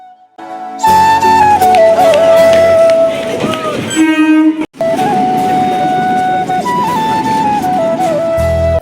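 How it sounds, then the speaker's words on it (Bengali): A train pulls into a station, its loud horn sounding in long sustained tones, broken by a brief pause before the horn resumes over steady rumbling rail noise. "তারপর কিছুক্ষণ দাঁড়ানোর পর দেখলাম যে ট্রেন আসছে"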